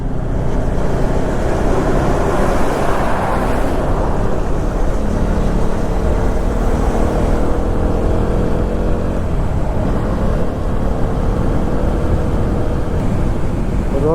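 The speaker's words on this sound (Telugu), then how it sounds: "ఎంత లోడ్ ఉన్న లారీలు ఎంత స్లో పోతున్నాయి తెలుసా" Heavily loaded lorries crawl along a highway between Jabalpur and Hyderabad, giving a continuous loud low engine drone with wind rush and slowly shifting rumbling tones, no talk heard.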